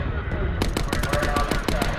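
Video game gunfire in a shooter match, a rapid close burst of automatic shots in an even rhythm that starts after a brief lead-in, with faint voices underneath.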